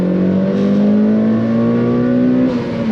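Mitsubishi Evo 9 engine pulling hard, a loud steady drone whose pitch climbs slowly and evenly throughout, dipping slightly at the end, with no talking.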